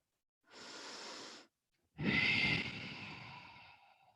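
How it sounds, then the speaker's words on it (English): Deep yoga breath during a vinyasa flow class: a soft, close inhale lasting about a second, a short pause, then a longer, stronger exhale that fades out, quiet and with no talking. "Deep breath."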